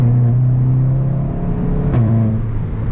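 A 360-horsepower Seat Leon Cupra with a DSG gearbox accelerates close by, its engine droning steadily with a brief shift-like dip and a sharp crackle about two-thirds through.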